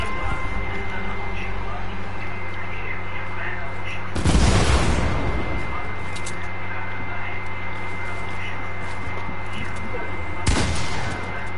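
Two loud bursts of gunfire ring out in a Fortnite match, the first longer and heavier, the second short, over a steady game hum and soft background.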